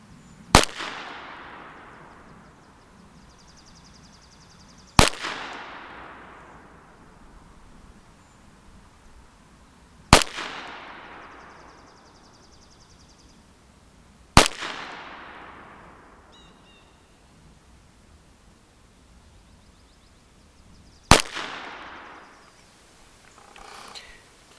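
A Colt Woodsman .22 LR pistol fires CCI Stinger rounds at an outdoor range, five sharp single cracks spaced about five seconds apart, each followed by a short fading echo, with quiet in between.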